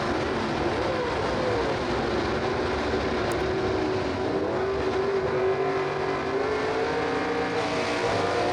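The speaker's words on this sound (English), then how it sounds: "Green start by both cars." Gasser drag race cars launching side by side at Huntsville Dragway, a loud continuous engine roar with a rising, sweeping pitch as the cars accelerate down the strip.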